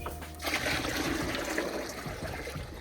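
A cow drinks water mixed to be slightly warm, given from a container at home; steady close slurping and sloshing of liquid runs throughout, fairly loud with no talk.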